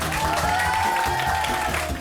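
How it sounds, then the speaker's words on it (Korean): Steady applause from a studio audience at a Korean TV contest final, with a tonal hum running through it. "박수 한번 해주시기 바랍니다"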